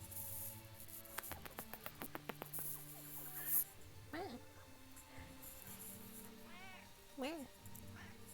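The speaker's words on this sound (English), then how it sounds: "I love this cat." A pet cat meows several times, with rising and falling cries up close, interleaved with a woman chatting and background game sounds.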